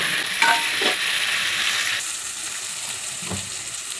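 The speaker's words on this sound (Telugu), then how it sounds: "ఉల్లిపాయ ముక్కలు మగ్గినాయండి. టమాటా ముక్కలు వేసుకున్నాను." Chopped onion and tomato pieces sizzle steadily in a pan for a pesara punugulu curry, with close, repeated scraping of a stirring spoon over a constant hiss.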